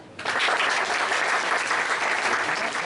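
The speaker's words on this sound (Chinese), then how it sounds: "拍手一下" An audience claps at a live band show in a small Taipei music venue, a sudden dense burst of applause that stays loud and steady to the end.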